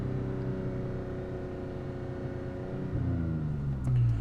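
A Toyota Tacoma engine holds a steady hum heard from inside the cab, then climbs in pitch as it is revved toward about 4,000 RPM near the end.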